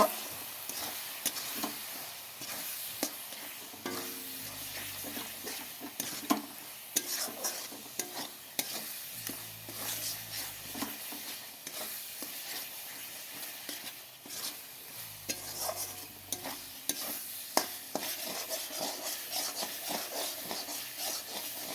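Spice paste for a spicy katla fish chorchori, thinned with a splash of water, is stirred and scraped in a pan. It sizzles steadily throughout, with repeated rasping strokes from the spoon and no one speaking.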